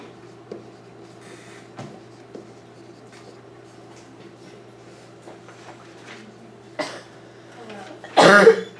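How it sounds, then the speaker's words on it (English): A few quiet scratchy sounds give way to a sudden, loud cough burst near the end, close and harsh. "I think it's time I should get my cough checked out."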